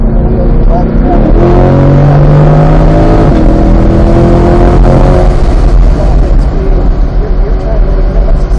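A car accelerating hard on the race track at Charlotte Motor Speedway, a loud close engine roar climbing in pitch through gear shifts and sustained throughout, with someone talking over it.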